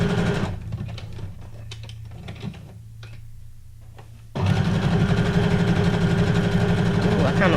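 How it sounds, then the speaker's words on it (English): A sewing machine stitches fabric for junk journal ephemera, with quieter, uneven stitching and a voice over it at first, then a sudden loud, steady fast rattle of rapid stitching through to the end. "Now I love how I just changed the stitches up in the middle of a line of stitching."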